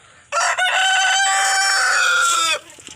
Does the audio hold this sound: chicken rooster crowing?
yes